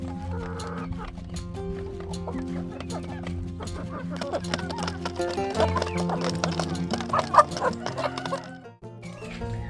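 A backyard flock of chickens and young roosters clucks and crows in overlapping calls close by, with a few sharper squawks rising over a busy, continuous background.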